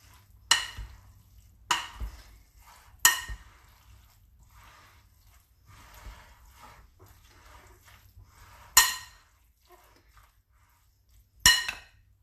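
Avocado being folded into a chunky bean-and-vegetable cowboy caviar in a big bowl: a series of sharp, close utensil clinks against the bowl at irregular intervals, with soft wet mixing sounds in between and no voices.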